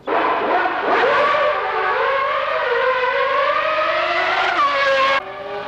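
A 1991 McLaren Honda Formula One car, driven by Senna, laps a circuit with a loud, sustained high-pitched engine wail that climbs and shifts pitch through gear changes before cutting off abruptly near the end.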